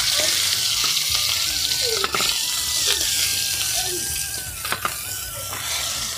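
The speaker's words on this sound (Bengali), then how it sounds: "মাছগুলো আমি সিলভারে কড়াই ভেজে নিচ্ছি" Fish sizzle in a steel kadai, a steady close frying hiss with occasional scraping clicks and taps of a utensil throughout, no talk over it.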